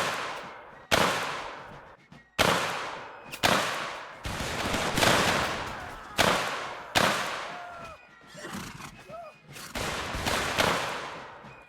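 Musket volleys in Mount & Blade Warband's American Civil War setting, several loud, sharp crashing salvos spaced a second or two apart, each rolling off into a decaying echo.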